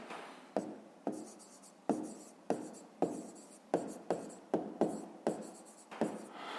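A pen writes on paper in a series of short, crisp strokes and taps, about a dozen close scratches spaced unevenly, with no voice over them.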